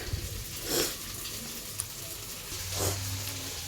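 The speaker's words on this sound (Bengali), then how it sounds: "এখন এখানে যেগুলো ঘরোয়া মশলা হয় সেগুলো দিয়ে এই যে আলুগুলো ভাজছি।" Potatoes frying in homemade spice mixture in oil, a soft, continuous sizzle at low level with a couple of brief stirring swells, quiet and without speech.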